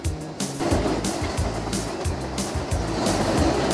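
Low, steady rumble of a truck engine idling in American Truck Simulator, parked in Flagstaff, Arizona, at evening, with a broad hiss of ambient noise over it, continuous and fairly loud throughout.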